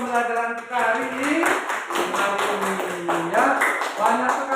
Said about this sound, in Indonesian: Tepuk tangan untuk pembelajaran kita hari ini.